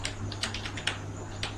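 Quick, light keystrokes clatter on a computer keyboard in an irregular rhythm, close and moderately loud over a steady low hum.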